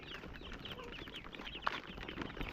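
Chickens clucking inside a crowded poultry house full of birds, a steady low chorus of soft overlapping clucks and calls with one brief sharper peep, all moderately faint.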